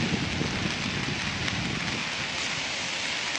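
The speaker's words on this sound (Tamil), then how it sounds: "அப்படி மழை பெய்யுது தொடர்ந்து பெய்யுது மழை" Steady rain falls continuously in Switzerland, a dense even hiss with no pauses, moderately loud and unbroken for the whole stretch, no speech.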